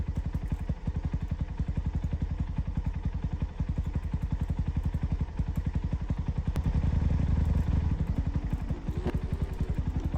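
Motocross bike engine idling in neutral in a Roblox video game, a loud, steady, rapid putter that swells slightly toward the end, with no speech.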